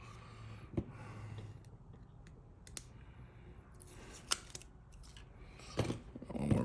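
Tesa tape is snipped with scissors during a Motorola G Stylus 5G front screen and battery repair: several quick, close cutting clicks and small crinkles, quiet and scattered over a low room hiss, with no speech.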